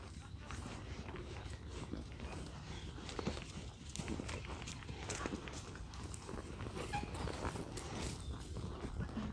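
A horse's hooves clip-clop on dirt as she works a cow in a pen, steady uneven footfalls throughout with shuffling movement and a person talking over them.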